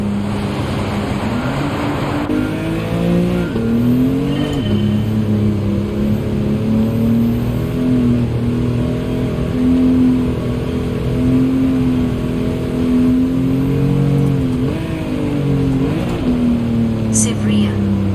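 A car drifting in Gran Turismo 7, its engine droning and revving steadily with pitch swells as it slides, continuous and fairly loud throughout.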